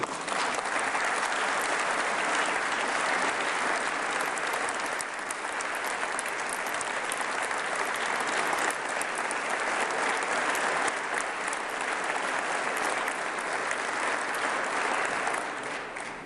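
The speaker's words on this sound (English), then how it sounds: "you're going to have to slow down on the clapping just a little bit" Sustained, dense applause from a large audience at a 2022 State of the State address, loud and steady for the whole stretch with no break and no speech over it.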